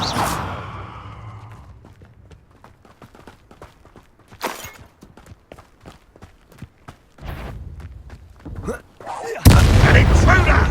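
A Depulso force spell fires in the video game Hogwarts Legacy, a sharp whooshing burst among other booming spell impacts and scattered thuds, with in-game voices speaking between blasts.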